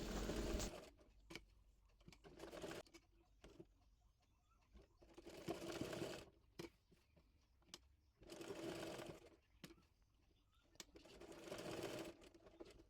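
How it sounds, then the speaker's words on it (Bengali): A sewing machine stitches a ribbon onto a baby girl's frock, running in several bursts of a few seconds each with quiet pauses between, close and moderately loud. "ফিতাটি সেলাই করে নেব।"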